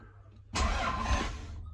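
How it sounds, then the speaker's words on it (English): A Toyota MR2 engine catches and roars to life after a brief lead-in, then holds a steady loud running rumble for about a second before easing slightly. "Now let's see if the car cranks."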